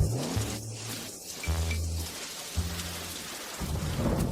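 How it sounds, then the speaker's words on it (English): Heavy rain patters steadily with a low rumble of thunder beneath it, a dense wash of sound that continues throughout at moderate level. "I'd better wait until the rain stops before going down."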